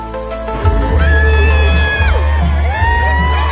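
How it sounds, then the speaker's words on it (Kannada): A dense crowd of fans screams, whoops and cheers continuously at a film teaser release event, loud and close, with shrill sustained shouts rising and falling over a constant roar. "ಫ್ಯಾನ್ಸ್ ಎಲ್ಲ ಸುಮ್ಮನೆ ಕಿರಿಸ್ತಾ ಇದ್ದಾರೆ."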